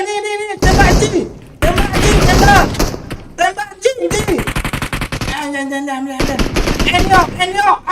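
Rapid bursts of automatic gunfire in PUBG Mobile, loud and close, crackling in dense volleys with short pauses, while players shout over the shooting.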